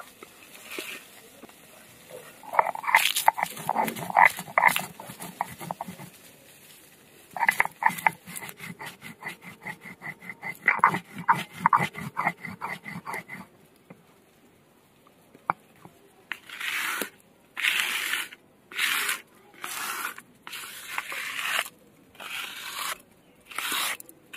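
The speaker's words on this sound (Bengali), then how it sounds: "যে ভাজা মশলাটা করে রেখেছিলাম সেটা এবার গুঁড়ো করে নেব।" Roasted whole spices are ground into powder in a kitchen while making chicken curry, with bursts of dry grinding and rasping. The bursts run in uneven clusters and then give way to a steady pulsing rhythm of short on-off runs near the end.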